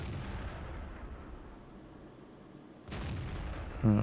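Artillery fire in the tank game World of Tanks, a sudden sharp boom cutting through the steady engine rumble of a Comet medium tank, followed by a brief harsher impact near the end.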